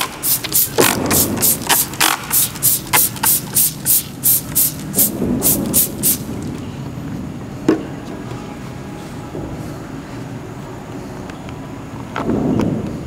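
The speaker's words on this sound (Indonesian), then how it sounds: "Nah, sisi luar kita semprot juga." A spray bottle squirts rapidly in a burst of about fifteen pumps across the outer side of a lure during sticker application, then stops, leaving quiet room tone with a couple of faint knocks and handling sounds.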